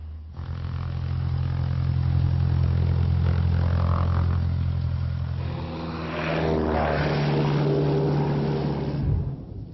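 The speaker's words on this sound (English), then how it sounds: "Cessna 241, fly runway heading, cleared for takeoff, runway 35." A Cessna propeller airplane takes off from a runway, its engine droning loud and steady with a strong low hum, building as the aircraft rolls and then fading near the end.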